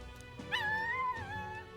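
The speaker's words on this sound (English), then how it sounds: "What was that, a dog?" In the video game Metaphor: ReFantazio, a dog whimpers with a single drawn-out, wavering whine that rises and falls over a soft ambient game background, moderately close and unaccompanied by speech.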